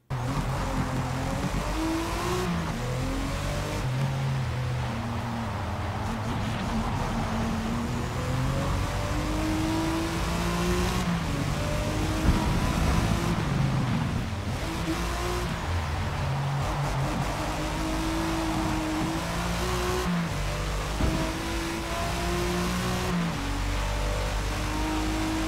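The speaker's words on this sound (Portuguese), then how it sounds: "Desse jeito aqui, eu vou explodir o motor do carro." A BMW's engine revs hard and continuously in Forza Motorsport 2023, rising and falling through gear changes with a strained, droning tone and no pauses.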